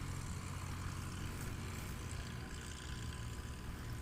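A small Cessna 180 propeller plane at a STOL practice at Patriot Airpark, Oklahoma, its engine droning steadily and loudly throughout as it takes off, with no voices over it.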